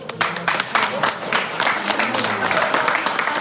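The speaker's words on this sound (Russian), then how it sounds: "давайте еще раз под занавес поблагодарим всех наших спикеров, одарим их аплодисментами" An audience at a lecture event claps for the speakers, a dense burst of applause that carries on steadily under someone talking over a microphone.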